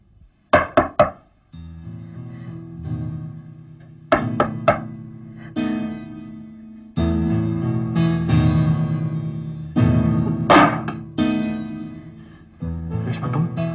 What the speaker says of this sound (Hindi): रेशमा, तुमने 2 बार नॉक किया